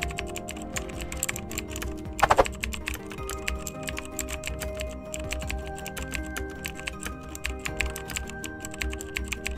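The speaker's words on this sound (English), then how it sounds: "So here, let's type a sample message." Rapid, continuous clicking of keys as a sample message is typed on a keyboard, close and steady, with a brief louder burst of presses near the start and no talk.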